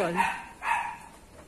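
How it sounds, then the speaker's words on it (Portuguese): A neighbour's dog barks twice from a distance, two short barks about half a second apart with a brief faint yip after, while someone talks nearby in Portuguese. "Vocês vão ouvir o cachorro do vizinho latindo"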